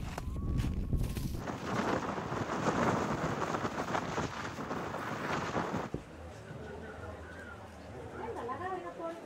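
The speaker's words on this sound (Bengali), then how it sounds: "হাওয়াটাই প্রচণ্ড কানে লাগে" Strong, cold mountain wind at Rohtang Pass near Manali roars and buffets the microphone in loud, sustained gusts, then drops to a quieter, breezy stretch.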